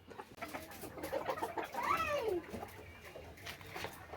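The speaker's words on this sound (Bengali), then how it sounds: "এই হচ্ছে পাকিস্তানের জাতীয় পাখি চুকার প্যাটির দেখুন কতটা অ্যাক্টিভ কতটা চঞ্চল" Chukar partridges kept as a pair in a small box on a farm give a clear, close bird call with rising and falling cluck-like notes near the middle, over steady low background noise.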